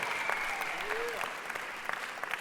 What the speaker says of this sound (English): just by a round of applause